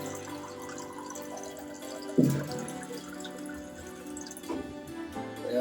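Water pours from a glass into a pot of rice, brief gushing splashes, first a larger pour then a smaller one, close and fairly soft.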